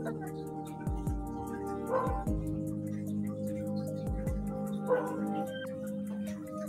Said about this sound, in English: Nag-uusap yung dogs.